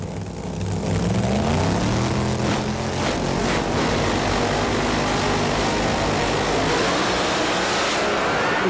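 Funny Car drag racers at the 2001 IHRA AC Delco Nationals in Richmond, a loud continuous engine roar that holds steady for several seconds, dense and close with no talk over it.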